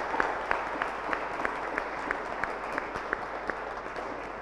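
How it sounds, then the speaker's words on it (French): A church congregation applauds during a Saturday mass at St Patrick, a soft, steady patter of many hands with a few sharper individual claps standing out at regular intervals, heard somewhat distant and quiet in a reverberant room. "on peut s'applaudir"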